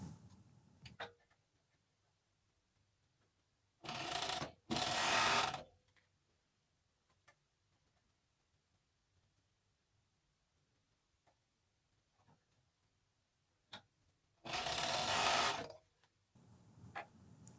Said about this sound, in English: we're going to sew the side seams